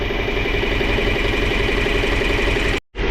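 A steady, loud tractor engine idles close by with an even low rumble, running on fuel left in it since last winter, cutting out abruptly for a split second near the end.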